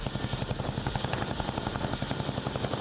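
An MH-47G Chinook military helicopter, a special-operations variant of the CH-47, gives a loud, steady, rapid rotor thumping that continues evenly throughout with no voices.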